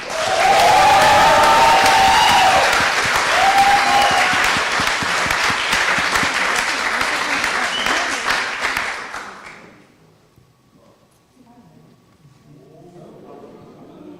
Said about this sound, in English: So one final round of applause for Tachi.